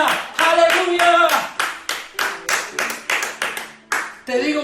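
A church congregation at an Easter Resurrection Day service claps in a quick, steady rhythm while loud voices shout and sing over the beat.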